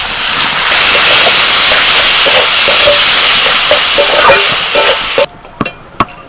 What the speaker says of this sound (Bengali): এবার এর মধ্যে দিয়ে দিচ্ছি মোচা আর মোচাটাকে হাত দিয়ে একটু মেখে নিয়েছি একটু চটকে নেব